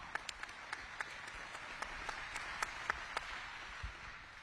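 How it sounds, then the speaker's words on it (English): Faint, steady applause from a crowd in a room in Iowa, with a few sharper individual claps standing out now and then over the wash of clapping. "give yourself a round of applause, Iowa"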